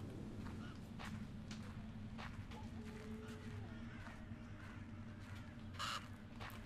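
A crow-like bird caws repeatedly in the horror video game Noctem, faint over a low steady ambient drone with scattered footstep-like clicks.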